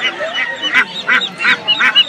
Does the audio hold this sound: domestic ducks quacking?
yes